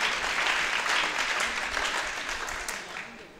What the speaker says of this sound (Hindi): एक बार सभी वक्ताओं के लिए जोरदार तालियों के माध्यम से सभी वक्ताओं का स्वागत